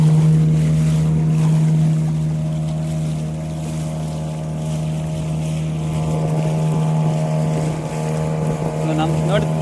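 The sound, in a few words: tourist motorboat on water in mangrove forest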